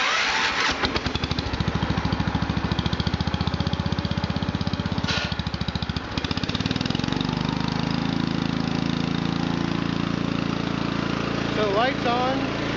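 A John Deere 140 garden tractor engine cranks with a fast rhythmic chugging, catches and settles into a steady, close, loud idle with a continuous mechanical drone, with some talk over it.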